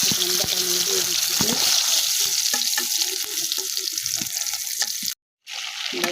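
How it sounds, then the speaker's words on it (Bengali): Fish frying with vegetable stalks in hot oil hisses in a steady, loud sizzle with stirring clatter, and a voice talks over it before the sound briefly cuts out. "দেখেন মাছগুলো ভাজা হয়ে গেলে এখন ডাটা নিয়ে দিয়ে দিচ্ছি।"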